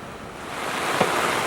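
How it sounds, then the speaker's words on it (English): Thunderstorm rain pours onto a camp awning as a constant, dense hiss that swells slightly over time, with one soft tap standing out near the middle. "This thunderstorm is great. Look at this water, man."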